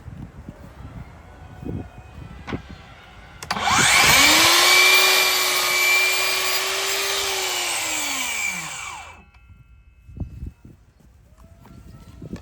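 A DEWALT DCS714B 20V MAX XR cordless miter saw spins up with a rising whine, cuts 5¼-inch crown molding in one loud sustained pass of about five seconds, then winds down, with light handling noises before and after.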